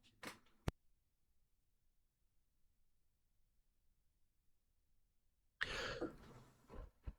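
A sick person coughs and clears their throat in two bursts, a short one at the start and a longer, louder fit near the end, with near silence in between.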